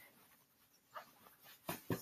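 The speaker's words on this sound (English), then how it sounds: "The dog is down here on the ground." A dog that is feeling unwell lies on the floor, giving faint whimpers and soft panting, with a couple of brief louder sounds near the end in an otherwise quiet room.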